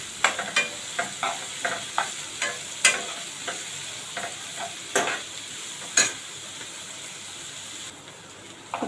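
Chopped onion and curry leaves sautéing in hot oil for dal khichdi, with a soft sizzle under regular, close spoon scrapes roughly every half second that thin out toward the end.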